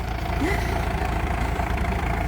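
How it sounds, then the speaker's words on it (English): A tractor engine idles near the shore at Morecambe Bay. It gives a steady, close, low rumble with no change in pace from start to finish. "Fisherman's giving this girl a tractor driving lesson."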